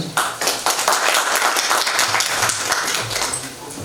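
An audience applauds at a staged cultural performance. The clapping is dense and continuous from start to finish, with a few voices mixed in.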